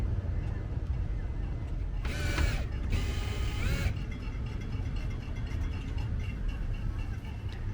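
Legs on a camper being cranked down by hand, two bursts of grinding, ratcheting mechanism noise close by over a steady low rumble of background noise.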